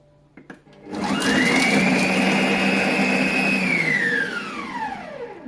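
A ThermoCook TC PRO M 2.0 kitchen blender whirs loudly at speed 7 through satay sweet potato soup, a steady motor whine with a spinning-down pitch as it slows after a few seconds, preceded by a couple of soft clicks.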